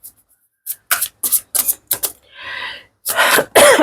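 A woman coughs several times in short, sharp bursts, pauses for a throat-clearing rasp, then coughs twice more heavily and close up, with no talking.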